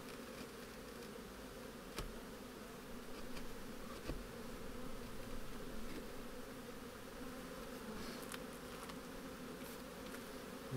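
A steady, dense buzzing of many agitated honeybees at an opened hive fills the clip, continuous and droning at a fairly low level, with no voices.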